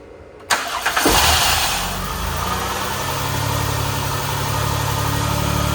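A Chrysler Town & Country minivan engine cranks briefly, catches and starts, then settles into a steady, loud idle with a constant low hum after a fresh ignition coil replacement.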